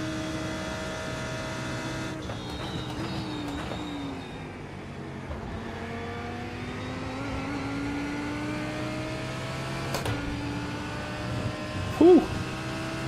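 A Lamborghini race car in iRacing at Imola, its engine droning steadily for several seconds with shifting pitch and a faint hum underneath, no clear voice over it.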